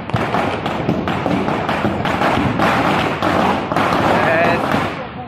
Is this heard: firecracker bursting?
yes